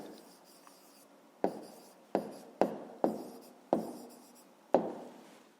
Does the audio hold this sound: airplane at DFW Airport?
no